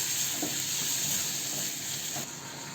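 Turmeric and salt being stirred into sliced cabbage and bell pepper frying in a pan over a low gas flame, a steady close sizzle and hiss with faint scraping stirs, no voices.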